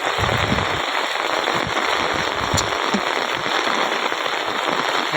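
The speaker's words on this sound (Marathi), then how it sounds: "अजून पाऊस चालूच आहे" Steady, dense rain hisses close by over soybean fields, with scattered drops tapping and splashing on a surface throughout.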